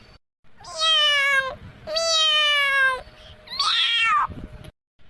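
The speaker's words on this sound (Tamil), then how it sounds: "என்னடா சவுண்டு பூனை" A cat lets out three loud, drawn-out meows nearby, separated by short pauses, with the last one rising and more strained.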